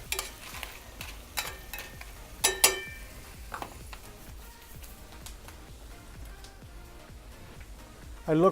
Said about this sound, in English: Now that we have the onions frying up a little bit, I'm gonna throw the chips back in.